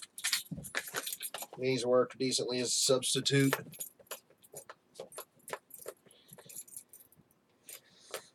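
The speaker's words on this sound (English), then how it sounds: "keys." Keys used as a makeshift box cutter while opening a subscription box rattle and clink in sharp, scattered bursts close by, with someone talking briefly near the start before the tapping and scraping continue alone.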